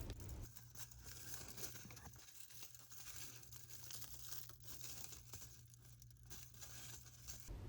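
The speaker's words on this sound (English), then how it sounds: "Next, we crumple the silver foil to get sparkly surface." Thin silver foil being crumpled by hand while making a cloisonné hot enamel pendant, giving a steady, close crinkling rustle that runs through the whole stretch at a soft, even level with a low hum underneath.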